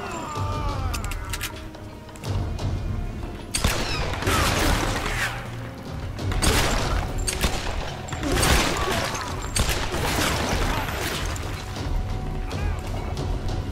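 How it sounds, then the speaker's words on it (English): Enemy gunfire in the video game Tomb Raider, irregular bursts of shots and crashing impacts mixed with chaotic action effects, loud and busy throughout. "She has a gun and is shooting at us."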